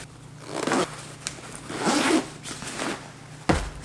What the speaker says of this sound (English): it should zip.